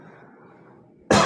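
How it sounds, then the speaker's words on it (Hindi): A man lets out a single sharp, loud cough at close range, abruptly breaking a stretch of quiet room hum. "मैं अभी एक खांसी रोक के बैठा हूँ"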